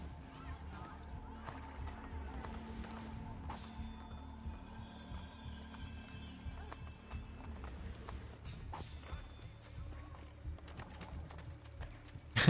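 Steady clip-clop of galloping hooves under a low hum, continuous and fairly close, with occasional whooshes and faint game sounds, from a horse in the video game Assassin's Creed Brotherhood.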